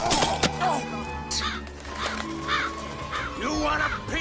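Crows caw loudly again and again in an outdoor setting, harsh repeated calls layered over someone shouting angrily at the bird.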